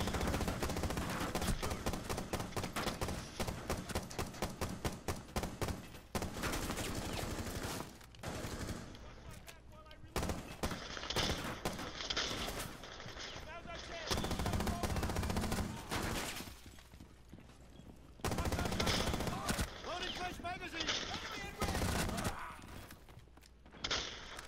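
Gunfire in Rainbow Six Siege during a T-Hunt match: loud, dense bursts of rapid automatic shots with thuds and short pauses between volleys throughout, close and dominant.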